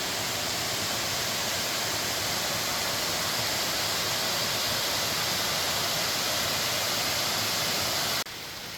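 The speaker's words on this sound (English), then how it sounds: "Dang, y'all, it's a waterfall." Water pours over the dam at a waterfall on the Lakeside Trail in Table Rock State Park, a constant, even rushing roar heard nearby with no break until it cuts off at the very end.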